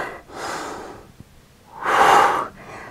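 Someone working out at home breathes audibly, a long exhale followed after a pause by a stronger, louder breath, close to the listener with no talking.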